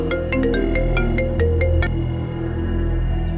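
A phone ringtone for an incoming call from mother plays loudly and steadily as a repeating melodic tune, alone with no talk over it.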